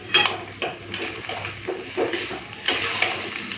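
A sweetened vegetable curry with a little added water gets stirred in a cooking pot, with repeated knocks and scrapes of a spoon against the metal over a low hiss and no talk.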